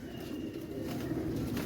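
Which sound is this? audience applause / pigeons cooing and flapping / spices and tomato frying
pigeons cooing and flapping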